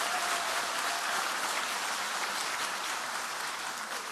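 Dense, sustained audience applause fills a youth policy forum hall, a steady, loud wash of many hands clapping at once with no gaps, continuing evenly for several seconds without any voices.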